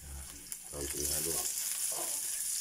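Ginger and garlic being stirred as they fry in a pan make a close, steady sizzle that swells after the first second, with a low voice briefly murmuring underneath.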